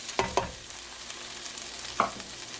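Beans fry in oil with salt, a low, quiet sizzle with a few sharp clatters or stirring hits near the start and another around two seconds.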